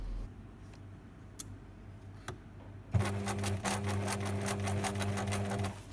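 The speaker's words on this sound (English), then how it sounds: "So now we're sewing the side seams again." A sewing machine stitches the side seams of a fabric piece, starting after a few quiet taps and then running in a steady, close, rapid mechanical whir with fast ticking for several seconds.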